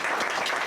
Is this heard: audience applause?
yes